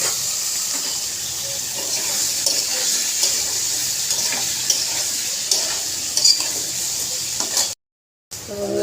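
Potato pieces sizzle and crackle steadily in hot oil, a loud continuous fry with occasional stirring clinks, then a brief silence before the sizzling resumes.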